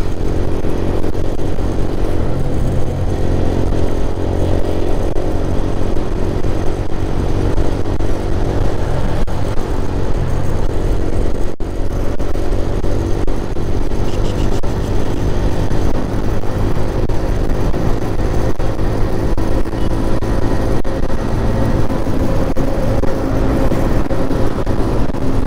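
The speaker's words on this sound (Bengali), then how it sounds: "এই যে রাইট নাও বাইক যাচ্ছে যাচ্ছে" Motorcycle ride on a road between Dhaka and Habiganj, a steady engine drone close by with wind roar and passing traffic rumbling throughout, loud and continuous with no talk.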